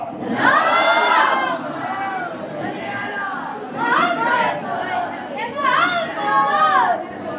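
A large gathering of men and children at a religious class chants salawat loudly in unison, three rising collective waves of voices, close and full, each swelling and then fading.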